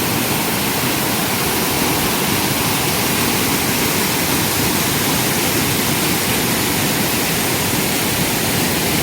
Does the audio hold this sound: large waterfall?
yes